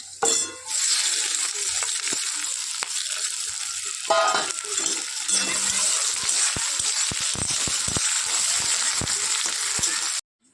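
Shrimp fry in a pan with a five-spice tempering, onion, garlic and green chili, giving a close, steady sizzle with scattered sharp clinks and scrapes of a utensil stirring against the pan.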